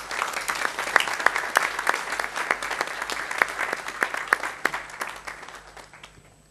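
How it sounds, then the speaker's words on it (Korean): A church congregation claps in congratulation during a Sunday worship service, a moderate scattering of distinct handclaps that gradually thin and fade toward the end. "축하하며 우리 박수하겠습니다."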